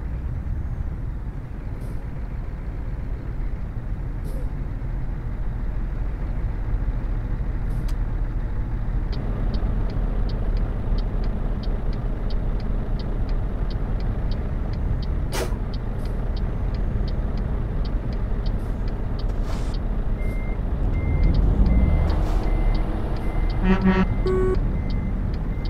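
A truck driven in Euro Truck Simulator 2 multiplayer on a route out of Stockholm, with a steady engine and road rumble throughout, occasional short clicks, and a brief horn-like toot near the end. No speech.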